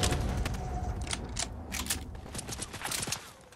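Video game gunfire, rapid bursts of shots crackling over a dense mechanical background, fairly loud and continuous with no talk.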